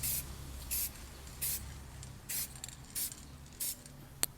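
Spray paint applied in light dusting passes over the chrome headlight brows of a 2018 Toyota Fortuner SUV: six short, even hissing bursts spaced about every half second to second, fairly quiet, with a faint click near the end and no voices.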